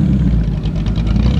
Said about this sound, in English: Got one of them go-fast boats.